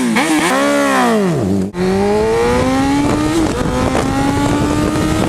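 Superbike engine revving hard, the pitch swooping up and dropping, then climbing steadily through the gears in a loud, close high-RPM wail, with a brief cut between shifts.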